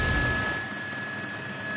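Nepal Army helicopter flying over a flooded area around Betrawati during relief and rescue work, a distant, moderate engine drone with a steady high whine that fades slightly after a louder start.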